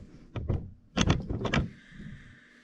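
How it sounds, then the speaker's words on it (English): Sheet metal for a custom hood molding run through a bead roller fitted with a half-round die, giving a series of loud metallic thunks and rattling clanks in uneven bursts, close up with no talking. "roll it with the bead roller"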